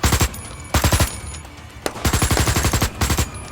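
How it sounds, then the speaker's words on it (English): Soldiers in the 2020 film Abominable fire guns blindly into the woods, loud rapid bursts of automatic gunfire in repeated volleys separated by short pauses. "they're like highly trained combat people, so they start firing their guns into the woods blindly"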